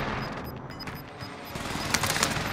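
Rapid gunfire in Call of Duty Warzone, a dense stream of automatic shots rattling under a constant rumble, growing busier toward the end, close and loud.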